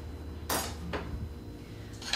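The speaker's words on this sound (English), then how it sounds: "We're just going to chop this up." A knife chops fresh dill on a cutting board while prawn bites are made, three sharp strikes spaced apart over quiet room tone.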